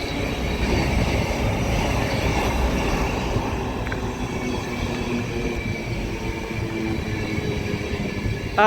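A passenger train on the Bradford to London King's Cross service rumbles steadily past, a loud continuous roar of wheels and carriages close by for the whole stretch, with no speech over it.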